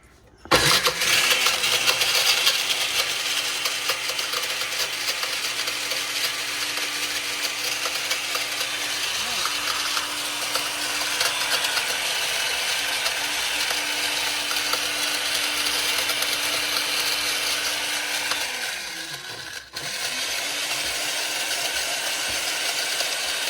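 A motorized meat slicer runs continuously while slicing dried meat, giving a steady loud mechanical whir with a rattling, ratcheting texture for over twenty seconds and a brief dip near the end, with no talking.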